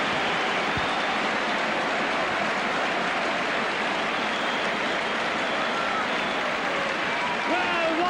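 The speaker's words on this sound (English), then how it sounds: "Rapturous applause round this Knowsley Road arena as Andy Northey finishes off with a flourish" Rapturous crowd applause fills the Knowsley Road rugby league arena after a try in a 1997 St Helens vs Warrington Super League match, a steady broad wash of clapping and noise from a large stadium crowd lasting throughout, with commentary over it.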